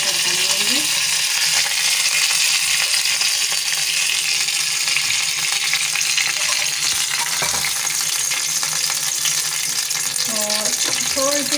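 Curry leaves crackle and sizzle steadily in hot oil throughout, a dense frying hiss with occasional clinks of a utensil.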